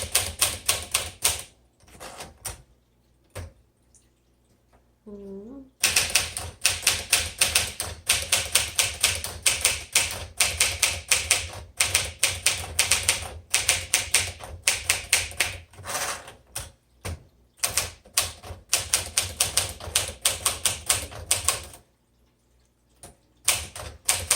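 A 1958 Smith Corona Sterling manual typewriter is typed on up close, with rapid bursts of sharp key strikes broken by short pauses and quiet gaps.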